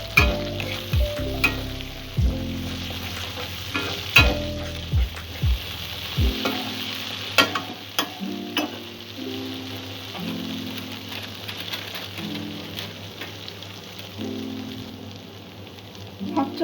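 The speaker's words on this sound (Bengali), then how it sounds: "1 চা চামচ ধনে গুঁড়ো, সব কিছু একটু ভালো করে নাড়াচাড়া করে নেব।" Jackfruit and spices, including coriander powder, fry in a pan with a constant crackling sizzle, while a spatula scrapes and knocks against the pan in repeated bursts, busy at first and then sparser.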